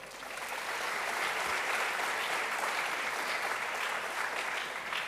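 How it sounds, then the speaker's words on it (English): Dense, even applause from a large audience at an event honoring women innovators, a continuous roar of clapping that holds steady, with no voices above it. "Clap for her."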